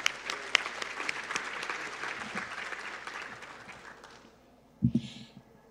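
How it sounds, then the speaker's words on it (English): An audience at a community education summit keynote claps in sustained applause that gradually thins and fades out, followed by a brief bump of noise near the end. "Let's give him another round of applause."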